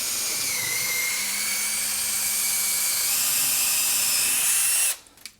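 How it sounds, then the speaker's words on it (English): A power drill whines loud and steady for about five seconds while boring a hole to mount a surfboard rack, then cuts off abruptly and leaves a few faint knocks. "So I'll go ahead and drill that out."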